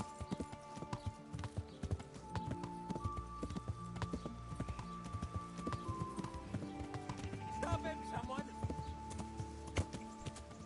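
Rapid hoofbeats clatter in a quick rhythm as a horse gallops in a video game, Kingdom Come: Deliverance, with people shouting over the hooves and a brief whinny partway through.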